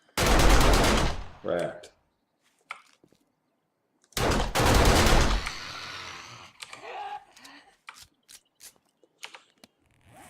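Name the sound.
modded weapon firing rapidly in video game 7 Days to Die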